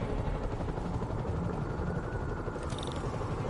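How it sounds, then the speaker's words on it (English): Helicopter rotors in the Amazing Spider-Man video game thrum in a steady, throbbing low drone, fairly close and continuous, with a short higher chirp near the end and no talking. "Bet I can use those helicopters to swing."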